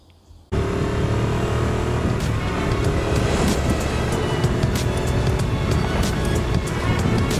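Riding a Benelli Leoncino 800 motorcycle: after a brief quiet moment, a loud, steady roar of engine and wind buffeting sets in suddenly and continues unbroken, with no speech.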